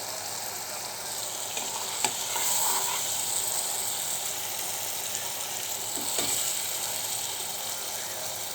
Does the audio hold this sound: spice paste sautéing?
yes